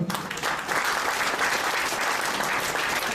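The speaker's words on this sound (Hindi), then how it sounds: "जोरदार तालियां बजाएं।" A large crowd at an opening ceremony in India claps loudly and continuously, a dense wash of applause with no voices standing out.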